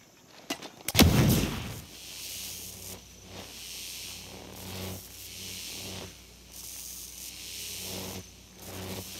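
A single sharp, loud sniper rifle shot cracks out near the start during a night-time special forces operation in Ghost Recon Breakpoint, then fades into a low ambient rumble and faint hiss with no voices.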